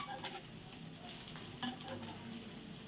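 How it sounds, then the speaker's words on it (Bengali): Fish roe fritters fry in a pan after being turned over, giving a faint, even sizzle with a few soft crackles and scrapes, close and without any talk. "আরেক পাশটায় সবগুলোকে এইভাবে উল্টায় দিয়ে ভেজে নিব আমি"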